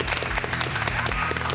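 Brief, modest applause from a very small studio audience, a few hands clapping unevenly at close range for under two seconds.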